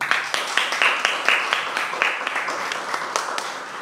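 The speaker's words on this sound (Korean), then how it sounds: "서강대 중국문화 전공학부의 송문영 학생에게 다시 한번 큰 박수 부탁드립니다" A university audience claps for a student's Chinese culture presentation, a steady run of sharp overlapping claps at close range, fairly loud and lasting a few seconds.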